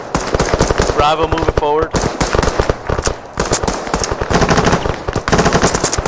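Rapid machine-gun bursts and gunfire in the military game ArmA 3 during a squad firefight, loud and near, continuing under shouted radio-style commands.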